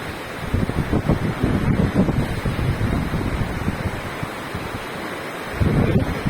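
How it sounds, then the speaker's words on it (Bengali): Strong wind buffets the microphone at a high viewpoint in Bhutan, a loud, gusty roar with low rumbling surges that swell and ease, with no voices. "সুন্দর হাওয়া হচ্ছে এখানে"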